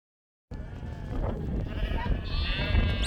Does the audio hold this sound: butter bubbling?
no